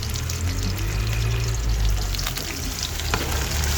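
Beef sizzles steadily in a hot pan, with a loud, continuous crackling hiss and a few brief clinks, close up and with no voices.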